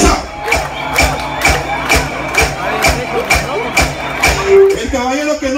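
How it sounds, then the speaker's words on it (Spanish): A crowd at a mobile-disco dance in Gualán, Zacapa claps in steady unison to the beat of a song, sharp regular claps about twice a second, over music, crowd noise and scattered voices. "¡Que suenen las palmas!"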